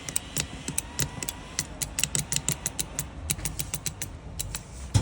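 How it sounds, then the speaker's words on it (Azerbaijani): The shutter mechanism inside an LED projector headlight lens clicks rapidly back and forth, a close, fast, irregular series of small sharp ticks and ratcheting creaks with nothing else over it. "İçindəki jalüzün səsidir."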